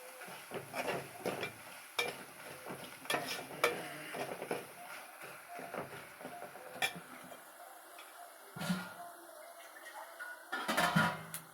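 Whole spices roasting in a pan for rasam, giving soft scraping stirs and faint crackling ticks, close and quiet, with brief pauses between strokes.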